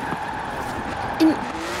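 In Forza Horizon 4, a Porsche 356 RSR Emory Racing Edition with four exhaust tips drives with a continuous engine drone and a brief tire squeal or skid partway through, moderately loud.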